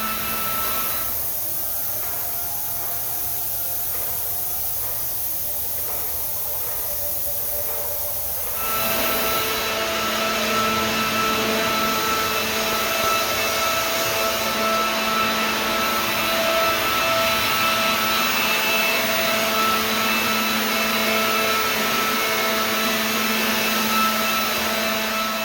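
Drywall texture sprayer spraying dry fall texture onto a ceiling, a loud continuous motorized whine and hiss that kicks up to a harsher, brighter rush partway through and runs steadily to the end, with no talking.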